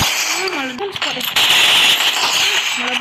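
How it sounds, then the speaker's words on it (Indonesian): A single explosion in the mobile battle royale game Free Fire bursts out mid-clip amid gunfire-like game noise, with someone talking excitedly over it before and after. "Meledak."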